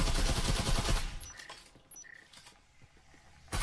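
Rapid bursts of gunfire punching through walls in the VR shooter Breachers VR, loud and dense at first, then dropping to scattered faint clicks and small tonal blips before another burst at the end.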